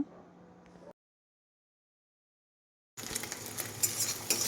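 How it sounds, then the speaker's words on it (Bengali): Eggs frying in a pan, with a low faint sizzle at first, then a gap of silence, then a louder, denser crackling fry with light utensil clinks near the end. "এই যে দেখো এখানে ডিম ভেজে নিচ্ছি"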